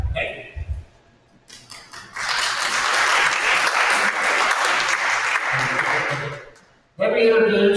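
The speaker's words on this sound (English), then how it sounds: "many of the organizers are here tonight and we applaud them" Audience at a Cumberland County town hall meeting bursts into sustained applause for the organizers, a dense, loud wash of clapping lasting several seconds, with speech heard briefly before and just after.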